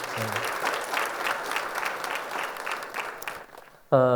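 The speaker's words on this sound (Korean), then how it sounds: "박수로 한번 격려하겠습니다" A church congregation applauds, steady dense clapping filling the room for about four seconds before it fades and a voice begins speaking.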